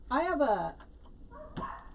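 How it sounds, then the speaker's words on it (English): Dogs bark indoors while it rains, a couple of loud close barks at the start followed by fainter yips, with someone talking nearby. "it's raining, so my dogs are like going nuts"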